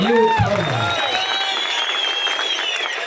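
Crowd applause at a Bhimotsava gathering in Shidlaghatta: dense, sustained clapping from a large audience fills the space while a speaker's voice rings over it at the start, with some tonal ringing through the din.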